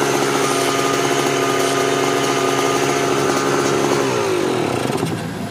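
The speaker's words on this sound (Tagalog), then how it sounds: "Hintayin natin umikot at uminit yung makina." A Kawasaki KMX125 motorcycle engine runs at a steady idle with its radiator fan switched on, a loud close continuous buzzing drone that wavers slightly near the end, with no talking.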